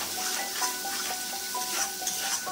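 Chilli powder and turmeric mixed with water sautéing in a hot pan, a loud, continuous close sizzle with scraping stirring strokes through it.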